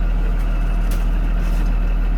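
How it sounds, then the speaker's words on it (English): A First Student school bus idles and rolls forward slowly during a service brake test, giving a loud, steady low engine rumble with faint air hiss and no speech. "Now I'm going to test my service brakes by taking the park brake off. We're going to roll forward 2 times"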